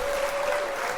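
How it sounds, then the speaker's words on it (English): Audience applause for Ja Rule, a dense, steady wash of clapping heard briefly and fairly loud, with a faint tone running through it. "Round of applause for Ja Rule."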